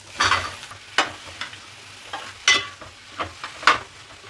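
Six large cut tomatoes going into hot oil for paneer butter masala, a close, steady sizzle with repeated stirring scrapes and knocks at irregular intervals.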